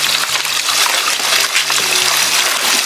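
Water gushing and splashing steadily out of a drum being emptied outdoors for irrigation, a continuous close, loud trickling pour with no talk.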